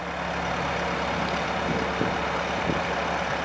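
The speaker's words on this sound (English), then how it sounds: "2021 Bobcat T66" A 2021 Bobcat T66 skid steer running nearby, giving a continuous engine drone with broadband hiss and a couple of faint knocks, with no voices.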